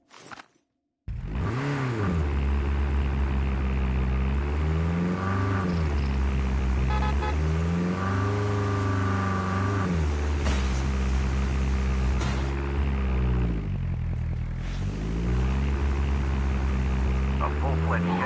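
A propeller aircraft drones loudly overhead in the video game Kaiju Universe, its engine tone rising and falling steadily for the whole stretch after an abrupt start.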